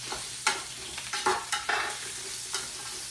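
Beef and root vegetables sizzle in a pot while a spoon stirs, giving a steady close hiss punctuated by several sharp scraping and clanking strokes, with no voices.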